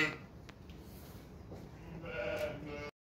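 Sheep and lambs on a farm bleat as the lambs are separated from their mothers; a few calls come early, then a louder, longer run of overlapping bleats toward the end, over steady low barnyard noise.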